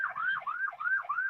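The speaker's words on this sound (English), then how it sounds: "I guess you can hear the sirens and stuff." An emergency vehicle siren wails outside, a repeating rising-and-falling yelp cycling about every third of a second, clear and fairly close, with no talking over it.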